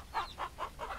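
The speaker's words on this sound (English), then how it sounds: "To me, it looks like a rooster" Rooster clucking inside the farming video game Ranch Simulator: four short, close clucks spaced evenly about a quarter second apart, each a bright mid-pitched burst, with no talk over them.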